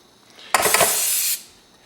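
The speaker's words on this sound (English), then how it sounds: "I'm going to go ahead and spray one side of these egg rolls with the coconut oil" A single close spray of coconut oil onto egg rolls hisses for just under a second, a bright sustained burst from a pump bottle, then trails off into quiet.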